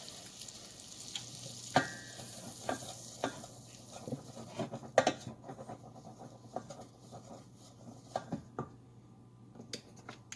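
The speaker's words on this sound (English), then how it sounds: "Add in 1 cup of flour into the pan and mix" Butter and flour being stirred together in a hot pan for chicken pot pie, a soft steady sizzle with scraping strokes and small clicks of the utensil, close and fairly quiet.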